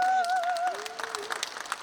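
Applause rises from an audience at a Rotary district gathering, scattered claps swelling after a voice trails off at the start, moderately loud and close for under two seconds.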